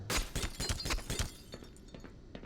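Glass shatters in the video game Black Mesa: a rapid run of loud, bright crashing bursts in the first second and a half, then scattered smaller tinkling fragments trailing off more quietly.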